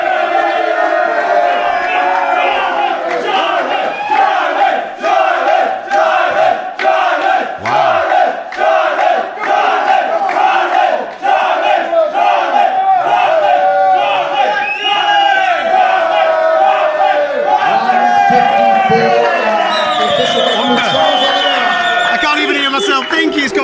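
Arena crowd at a UFC event roaring and cheering continuously, a dense loud wall of voices with rhythmic chanting swells throughout.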